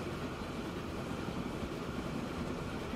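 Steady rumble of a train rolling along in Transport Fever 2, a continuous low rail-and-engine drone that holds even throughout with no talk.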